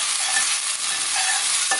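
Chopped vegetables sweat in a pan for a shrimp and saffron soup, giving a steady, close, bright hiss of gentle frying that holds evenly throughout, with a soft stir scraping near the end.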